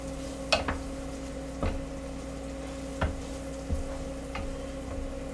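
Risotto alla Milanese rice toasting in a pan, a spoon scraping and clacking against the pan every second or so over a low steady sizzle, close and fairly quiet.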